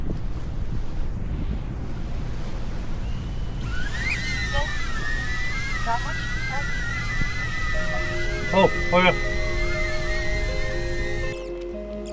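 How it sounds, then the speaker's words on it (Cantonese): East wind buffeting a microphone during a DJI Neo drone flight outdoors, a continuous low rumble throughout, with a shrill whine and a voice joining midway. "呢度吹緊東風啦"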